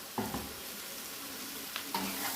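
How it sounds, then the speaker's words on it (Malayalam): Soybean and cut potato pieces go into a hot pan, producing a steady close sizzle with a few quick scrapes and clatters of stirring. "ഇനി നമുക്ക് വേണ്ടത് ഈ സോയാബീൻ ഇട്ട് കൊടുക്കുകയാണ് അതിൻ്റെ കൂടെ തന്നെ കട്ട് ചെയ്ത് വെച്ചിരിക്കുന്ന ഉരുളൻ കിഴങ്ങ് കൂടെ ഇട്ട് കൊടുത്തു"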